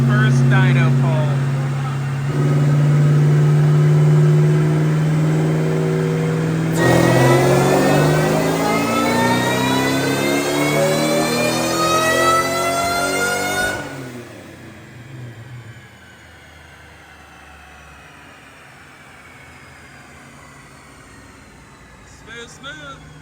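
Supercharged Saleen running on E85 fuel revs hard on a dyno, the engine note climbing loud and steady through the pull before cutting off into quieter idle with a few faint knocks at the end.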